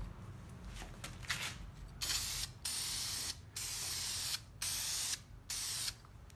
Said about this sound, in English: And with this, just like any other rattle can, shake it up. And you just put a light first coat on,